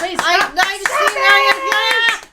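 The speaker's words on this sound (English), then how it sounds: "Why are we still clapping? Why is this still happening?" A few people clap their hands indoors in a quick, irregular patter of sharp claps while a voice talks loudly over them, the clapping fading out at the end.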